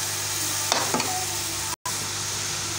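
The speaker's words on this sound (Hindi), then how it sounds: "अब मैं इसमें डाल दूँगी ये मैक्रोनी" Oiled macaroni tipped into a pan and stirred over heat, giving a soft steady sizzle with a couple of brief scraping clatters near the start, fairly close, with no talking.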